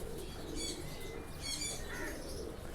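Faint bird calls come from a golden pigeon, a flying breed, kept by a hobbyist. Short chirps and soft cooing notes repeat quietly over a low steady background, with no talking.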